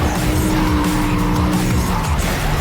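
A car slides and skids in the Need for Speed Carbon Rework mod, its tires squealing steadily over a loud, continuous engine roar that fills the whole stretch.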